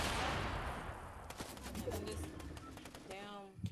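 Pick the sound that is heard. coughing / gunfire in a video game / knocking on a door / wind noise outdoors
gunfire in a video game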